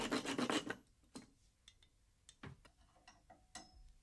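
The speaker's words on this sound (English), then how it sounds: "A little sawing work on the chest expanders." Sawing on chest expanders in a children's gym scene: a loud burst of rapid rasping strokes at the start, then scattered quieter scrapes and taps, close and without talk.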